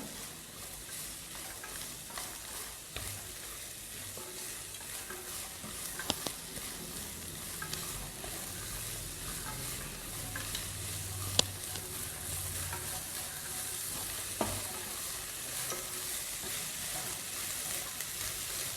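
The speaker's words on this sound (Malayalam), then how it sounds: "നന്നായി വാട്ടി ഒന്ന് വേവിച്ചെടുക്കണം" Onions for chicken fried rice sauté in a hot pan with a steady, close sizzle and crackle, punctuated by occasional light clicks from stirring, continuous and even throughout.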